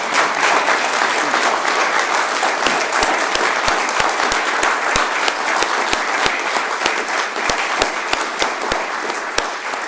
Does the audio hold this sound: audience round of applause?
yes